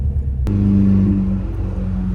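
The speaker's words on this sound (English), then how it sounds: "You got cars driving around with the hoods off and no bumper." A loud modified car engine, hood off and no bumper, rumbles close by, droning steadily with a sharp onset and slight shifts in pitch as it passes.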